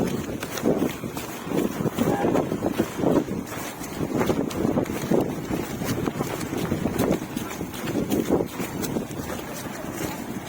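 Heavy rain pours onto a flooded road, a dense, steady roaring wash of water that stays loud and continuous throughout, with some wind-like rumble mixed in.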